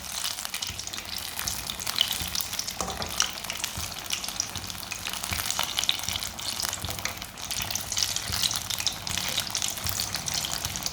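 Egg pakora frying in hot oil, giving a continuous crackling sizzle with scattered pops, close and steady with no talking.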